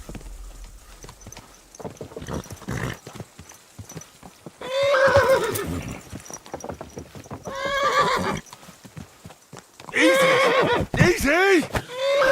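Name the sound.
horse neighing in a video game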